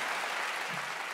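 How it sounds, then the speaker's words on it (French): Brief burst of studio audience applause during a French comedy podcast, steady dense clapping throughout the short moment. "Là, vous applaudissez."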